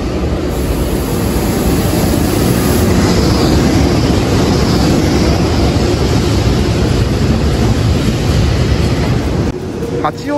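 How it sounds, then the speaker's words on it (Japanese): A heavy EH200 electric locomotive hauling tank cars rumbles steadily past close by, a loud continuous roar of wheels and motor, with a brief high squeal near the end. "高崎機関区に所属する EH200 型がタンク車多機を牽引してき"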